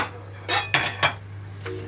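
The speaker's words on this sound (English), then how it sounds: "So keep stirring." A spoon scrapes and knocks inside a pot of Nigerian stew with assorted meat and red puree, three or four short close stirring strokes over a steady low hum, with no talking.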